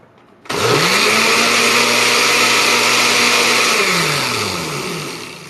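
A blender whirs up a sea moss powder mixture, starting abruptly and holding a loud, steady motor whine with a rising then falling pitch before easing off toward the end.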